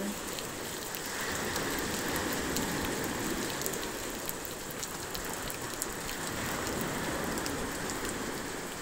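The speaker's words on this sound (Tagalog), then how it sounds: "Nabot ng malakas na ulan ang mga mangangawil." Heavy rain pours down on shore anglers casting for dogtooth tuna. A steady, dense hiss of drops patters on surfaces around them throughout, with no voices.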